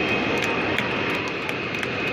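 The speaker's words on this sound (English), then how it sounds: "The jet dryer is blowing some of that speedy dry still off the track." Jet dryer blowing speedy dry off the track at Las Vegas Motor Speedway during a NASCAR truck race caution, a steady loud jet-engine roar with a constant whine.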